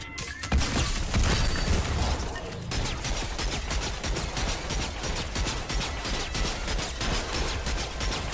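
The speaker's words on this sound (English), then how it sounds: "Charged shotgun" A charged shotgun fires in the video game Fortnite amid dense, continuous gunfire and crashing effects. The burst is loud and busy from start to finish.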